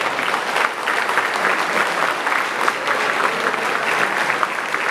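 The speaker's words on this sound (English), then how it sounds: "give the teachers a hearty round of applause" Parents at a school achievement day give the teachers a hearty round of applause, a dense, steady wash of many hands clapping that holds at an even level from start to finish.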